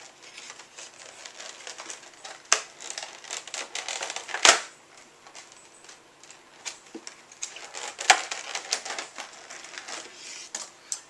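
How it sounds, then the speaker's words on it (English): Plastic cover peeled and lifted off a Razer peripheral box, giving a run of crinkly, rustling crackles with two sharper snaps near the middle and end, close up, with no talking. "So let's go ahead and lift the plastic."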